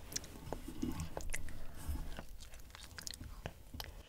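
A young girl chews durian, tasting it for the first time: soft, close, wet chewing and biting that runs steadily, with faint voices in the background.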